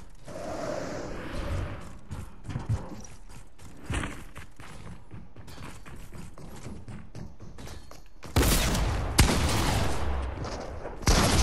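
Sharp, scattered gunshots from a Fortnite match ring out in brief isolated bursts at low level, with a louder burst of mechanical game noise near the end.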